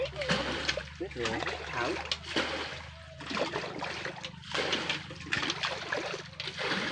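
Fish thrashing and splashing water inside a bucket, irregular wet slaps and splatters in bursts, close by, with a person talking over much of it.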